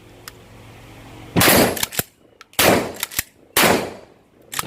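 Three loud, sharp shotgun blasts from an NTS Commando 8.6-inch pump-action shotgun fitted with a Typhoon stock, firing Thai Arms 9-pellet buckshot, each with a brief ringing decay and pauses between them.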